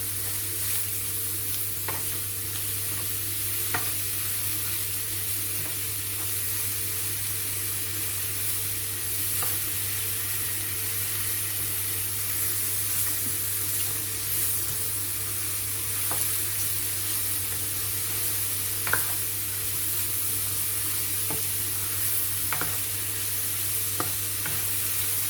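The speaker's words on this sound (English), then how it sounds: "cook them for about 5 minutes, mixing them continuously" Sliced mushrooms sizzle steadily in a pan for a mushroom and chicken casserole while a spatula stirs them without pause, giving soft scraping clicks and occasional sharper taps over the continuous frying hiss; no voices are heard.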